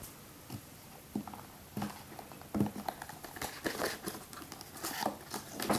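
A Xiaomi Mi Watch box is opened up close with crinkling packaging, soft taps and scraping handling noises in irregular bursts, fairly quiet, no talking.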